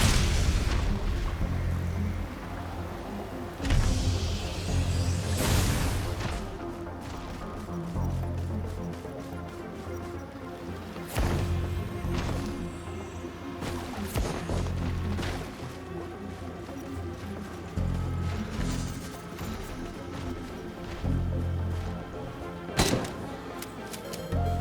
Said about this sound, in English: Here's our bandit with his shotgun.